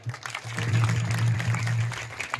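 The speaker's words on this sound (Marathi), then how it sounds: "हे मुलं यांच्याकरता जोरात टाळ्या वाजवा" A crowd claps for children at a gathering, a brief burst of dense, steady applause that swells and holds for a couple of seconds before tapering.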